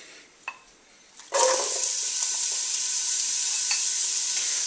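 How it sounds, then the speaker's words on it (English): Chopped onion hits hot extra virgin olive oil in a stock pot, a couple of small clinks followed by a sudden loud, steady sizzle that continues close up without talk. "That sizzle is a good sign."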